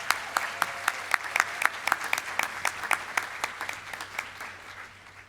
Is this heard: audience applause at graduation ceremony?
yes